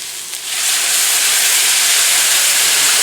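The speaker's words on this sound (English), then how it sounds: "Now just for a moment I'm going to steam these." Water poured into a hot cast iron pan with portobello mushrooms bursts into a loud, sustained hiss of steam and sizzle that rises quickly and then holds steady and strong.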